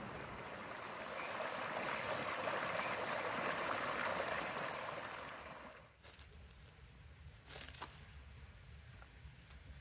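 Agua Caliente Creek, crossed along the Pacific Crest Trail, rushes loudly with steady broadband water noise for about six seconds, then drops to a fainter, closer trickle with a few brief splashes.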